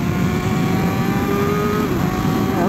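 A racing motorcycle at Buriram circuit accelerating hard after a downshift, its engine loud and close with a continuous rising whine and rapid mechanical drone, no talking.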